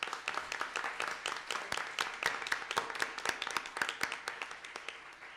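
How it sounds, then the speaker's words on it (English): Audience applause at an evening Career Center event, a steady crowd of hand claps sustained and fairly close throughout, with no talk over it. "I want everyone to give Sean a big round of applause"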